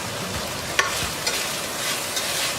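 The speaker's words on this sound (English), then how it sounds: "So I'm gonna throw in about a teaspoon of minced garlic. And then I'm gonna let that cook for about a minute" About a teaspoon of minced garlic cooks in a pan with an even, soft hiss of sizzling oil and a few faint utensil taps, close up with no voices.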